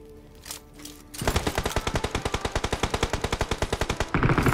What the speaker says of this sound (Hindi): कंटिन्यूसली जोन के बाहर फायर चल रहा है